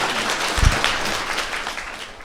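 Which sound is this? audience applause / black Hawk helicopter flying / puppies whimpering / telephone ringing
audience applause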